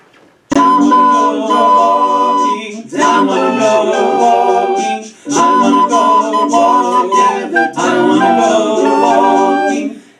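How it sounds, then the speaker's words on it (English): A recorder plays a melody alone, loud and clear, in four sustained phrases separated by brief pauses. "if you want to add the recorder with it, it would sound something like this"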